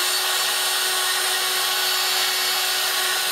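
Proxxon pantograph engraver milling a model locomotive chassis at about 20,000 RPM, giving a steady, loud, high-pitched whine with a faint constant tone underneath, uninterrupted throughout.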